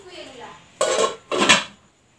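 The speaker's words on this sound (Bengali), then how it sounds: "ননস্টিক কড়াই।" A nonstick wok (kadai) being handled indoors, giving two short, fairly loud metallic clatters about half a second apart, with a faint voice murmuring just before.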